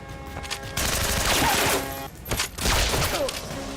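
Continuous burst of gunfire right after a shouted command to fire, loud and dense with sharp overlapping cracks, briefly dipping before resuming; a voice is heard faintly within the barrage.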